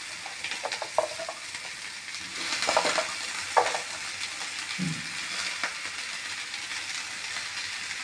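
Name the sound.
potatoes and onions frying in a pan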